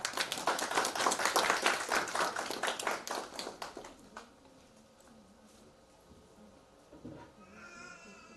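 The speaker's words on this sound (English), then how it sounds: "Please give a round of applause, guys." An audience at a space science olympiad ceremony applauds in a dense burst of clapping that fades out after about four seconds, followed by quiet room noise.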